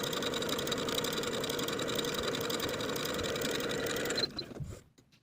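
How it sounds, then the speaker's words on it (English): A home sewing machine runs basting stitches along a seam allowance on fabric pant pieces, a steady fast whirring and clatter up close that holds for about four seconds, then slows and stops. "I'm going to sew basting stitches within the seam allowance from one side of the slant to the other"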